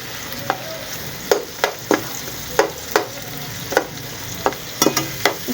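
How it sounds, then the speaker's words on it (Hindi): Onions frying in ghee in a pan, a constant sizzle with repeated sharp scraping strokes of a spoon stirring at irregular intervals, close and fairly loud, with no talking. "अब इसको भून लूँगी।"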